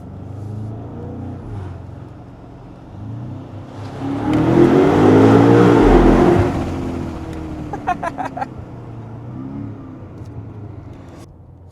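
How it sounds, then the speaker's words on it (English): BMW M5 G90 with a DCE catback exhaust rumbles while climbing, a deep drone that swells loud in the middle as the engine pulls, then eases, with a few quick pops and crackles afterward. "You should definitely hear a lot more rumble"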